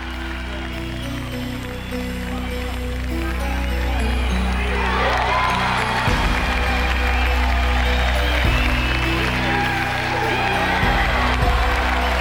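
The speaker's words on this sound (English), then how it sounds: "Eisenbuchart exits to a storm of applause from spectators, officials and VIPs" Spectators, officials and VIPs at a 1997 African open martial arts tournament break into applause and cheering after an ice-breaking demonstration, a loud sustained roar of clapping and shouts from a large crowd.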